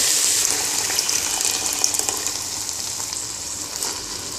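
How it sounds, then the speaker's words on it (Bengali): Mixed spice paste hits frying chickpeas for a chola bhuna, giving a steady, loud, close hiss and sizzle that continues throughout with small crackling pops and no talk. "গুলিয়ে নেওয়া মশলা দিব"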